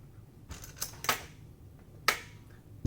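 A PKM machine gun barrel sliding into the receiver and seating, a handful of crisp metallic clicks and clacks spaced out over a few seconds, close and fairly quiet.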